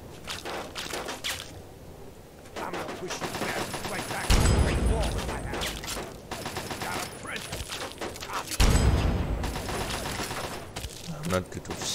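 Rifle gunfire in the Fallout 3 video game, with two loud, sharp shot bursts standing out above a busy background of game sounds, footsteps and mechanical clatter, and a voice talking in between.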